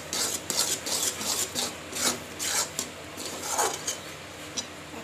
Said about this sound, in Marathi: आपण हे व्यवस्थित मिक्स करून घ्यायचं आहे आणि थोडं घट्ट येऊ द्यायचं आहे